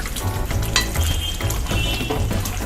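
Paneer bubbles and sizzles in a masala pan, loud and close, with scraping stirring and a few light clinks of a utensil against the pan.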